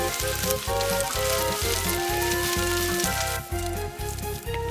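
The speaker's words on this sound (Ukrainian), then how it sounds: "Тушкуємо овочі до золотистої скоринки." Vegetables sauté in oil in a pan for a sorrel soup, giving a steady, close sizzle with a faint rain-like crackle and a regular pulsing hum underneath, no talking.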